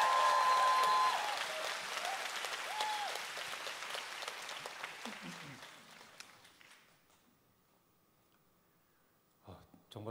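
Clapping from the audience at a book concert for Shin Young-bok's last lecture, Damnon, starts strong, then thins and fades over several seconds before a few voices speak near the end.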